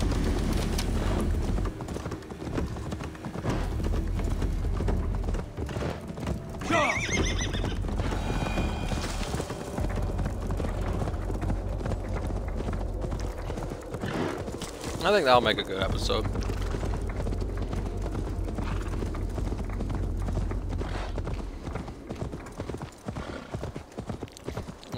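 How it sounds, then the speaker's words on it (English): A horse gallops in the video game Assassin's Creed Valhalla, steady rhythmic hoofbeats running the whole stretch with a whinny partway through, under a person talking over the game. "Let's call up the horse."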